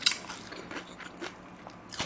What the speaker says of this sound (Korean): 저는 잔뼈랑 그냥 씹어 먹거든요.